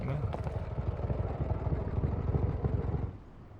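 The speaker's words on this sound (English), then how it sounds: "I could hear Clementine's motorbike pulling up" A motorbike engine putters at low revs with a pulsing rumble, then drops off abruptly near the end.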